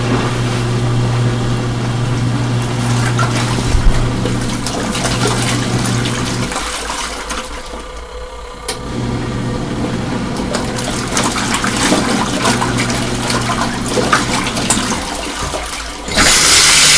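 An LG ThinQ MEGA Ultimate washing machine fills with water during its cooldown fill, a loud steady gushing rush with a low hum that drops out briefly midway and then resumes, with no speech.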